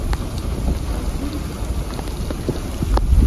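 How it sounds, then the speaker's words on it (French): A violent desert storm near Jubba rages in a steady, loud roar of wind and rushing noise with gusts swelling toward the end, no voices present. "nous nous retrouvons piégés dans une tempête de désert d'une violence inouïe"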